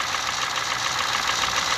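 A car engine idles steadily at close range after a coolant flush, producing a constant rough rumble and hiss without any change in pace.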